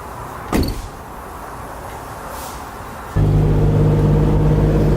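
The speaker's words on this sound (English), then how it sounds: "Shut the door." A single thud of a bagged 2008 Ford Super Duty truck door closing is followed by quiet cabin hum, then the engine starts and idles with a steady, loud drone.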